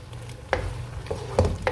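Semolina being stirred and roasted in a pan for Sri Lankan kesari, a few scraping strokes of a spoon over a soft, low sizzle, fairly close and without talk.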